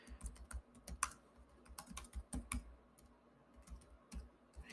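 Quiet, uneven keystrokes on a computer keyboard, with soft clicks arriving in short clusters and small gaps between them. The typing is heard alone, with no speech.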